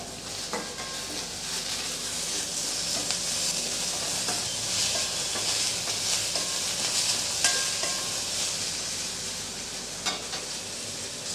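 Chopped onion and a small tomato sauté in a pan for a potato puri masala, giving a steady oily sizzle with scattered scrapes and taps of a stirring spoon throughout and no voices.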